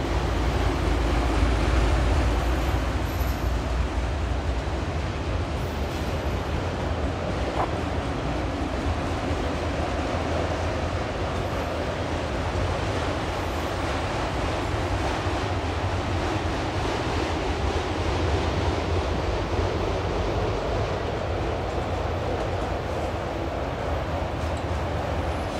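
A long freight train loaded with new automobiles on triple-level rail cars rumbles steadily across a rock viaduct near a power plant, a broad, continuous roar with wind and no talk.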